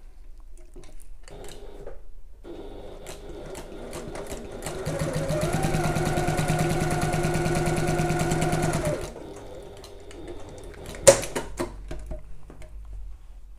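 A sewing machine runs a steady burst of stitching through two layers of a messenger bag seam at regular stitch length, loud and even for several seconds, framed by quieter handling clicks and one sharp knock near the end.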